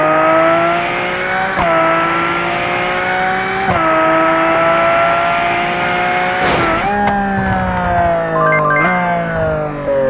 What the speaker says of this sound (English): Lamborghini Aventador